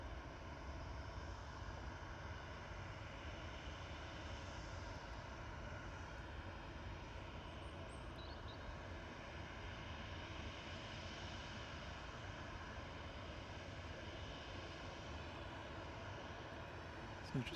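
Engines of a distant Swiss airliner rumble across an airport apron, a faint, steady drone that holds evenly over the whole stretch with no clear rise or fall.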